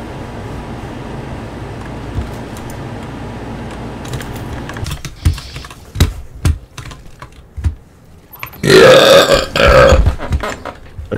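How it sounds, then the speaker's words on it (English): A single long, loud, rumbling burp rolls out near the end, close and prominent, after several seconds of computer keyboard typing and clicks. "Because of the burp?"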